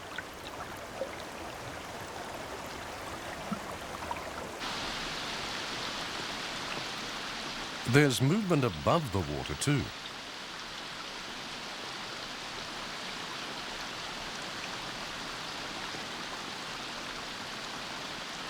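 Rain pours onto the surface of a river where amago trout live, a steady hiss of drops throughout that thickens partway through, broken midway by a brief burst of chirping, with a narrator speaking once near the start.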